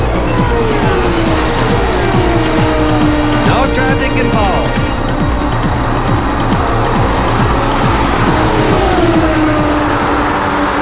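Indy cars roar past at high speed during the 1992 Indianapolis 500, around 223 mph, engines whining loudly and pitch sweeping down as they go by, with an excited commentator talking over the noise.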